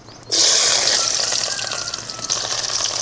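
Mustard seeds and chopped shallots dropped into hot oil, a loud sizzling hiss that bursts in suddenly and then settles into a steady, crackling fry close by, with no talk over it.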